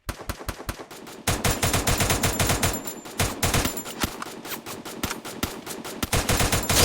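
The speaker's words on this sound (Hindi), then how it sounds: "हम उस पर फायर करते।" Rapid automatic gunfire from the Free Fire battle royale game, loud bursts of repeated shots with brief pauses, mixed with sharp single cracks and game effects.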